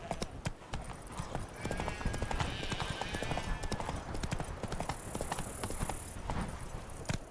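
Horse hooves clip-clop steadily at a trot in The Witcher 3: Wild Hunt, a dense rhythmic patter of hoofbeats with faint background game sounds throughout.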